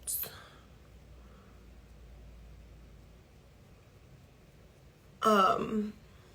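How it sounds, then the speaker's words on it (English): A short, rough throat clearing close up breaks a quiet stretch, following a faint brief sound at the start. "I'll clear my throat like that"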